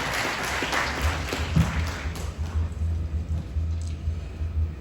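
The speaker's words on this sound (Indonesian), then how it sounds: "Boleh tepuk tangan yang paling meriah." Audience applause greets a retired Indonesian army general at a school event, heard as steady clapping that fades over a few seconds alongside a low rumble.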